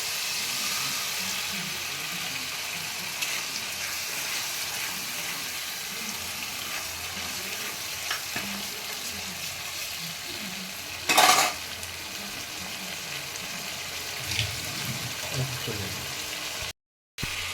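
Cashew paste is added to frying spices in a pan for egg korma, producing a continuous sizzle with stirring scrapes and one sharp burst of spattering hiss near the middle, quiet and close.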